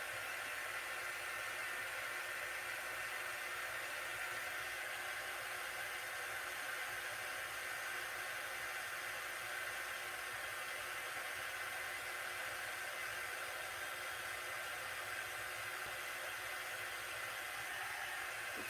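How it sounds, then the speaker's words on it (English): A steady, broadband whoosh of a hair dryer blowing continuously at close range, with an even airy hiss and low motor hum throughout. "So my poor little dryer here is pretty painted."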